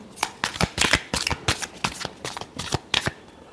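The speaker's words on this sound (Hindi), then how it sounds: "Last shuffle." Tarot cards being shuffled in a quick series of crisp riffling bursts, close and clear with no talk over them.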